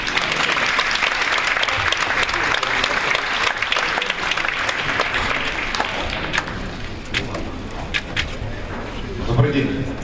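Applause from a conference audience as a speaker takes the stage, thick sustained clapping that gradually thins into scattered claps near the end, with faint voices and stage movement beneath.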